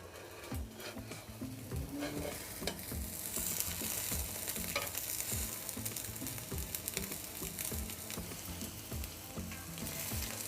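An omelette with cheese and spicy bread sizzles and fries steadily in a pan while it is folded over, with soft scraping and stirring sounds over a constant crackle and no one talking.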